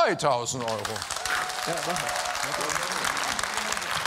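Studio audience on a German TV quiz show gives a short, lukewarm round of applause, a steady clatter of clapping lasting a few seconds while a presenter speaks over it.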